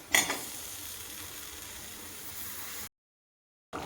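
A potato, pointed gourd and prawn curry bubbles in a pan after hot water is poured in, producing a steady close hiss with a brief clatter at the start, then a sudden cut to silence before the hiss resumes.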